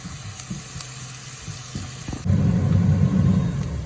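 Vegetables sauté in a pan with salt for a vegetable fried rice, giving a soft sizzle that swells suddenly into a louder, steady frying hiss partway through, with no voices.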